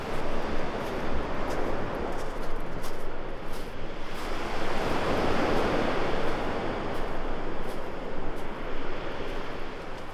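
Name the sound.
ocean waves on the beach at Lefkada, Greece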